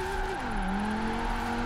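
An Audi with a large torpedo-shaped roof attachment drifts in Forza Horizon 4, its engine droning steadily while the pitch dips and settles, with a faint tire hiss under a continuous loud tone.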